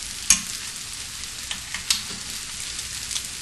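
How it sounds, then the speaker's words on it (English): Breaded Italian pork chops searing in a hot pan give a steady, loud hiss and crackle with a few small pops, continuous throughout and close up. "Searing is very quick."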